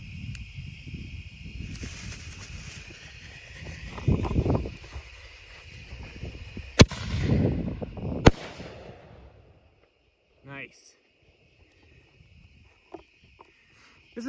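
A USA Camo Ammo Canister fireworks shell bursts outdoors amid a steady hiss of crickets, with two sharp cracks several seconds apart, some rumbling, then fading crackle and near silence.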